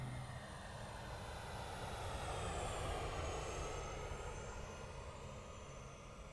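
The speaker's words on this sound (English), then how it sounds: "I let the plane land itself completely" A simulated airplane lands itself in AeroFly FS 2019, a mobile flight simulator, with a steady aircraft engine drone that swells slightly in the middle and then eases off, heard alone without any talk.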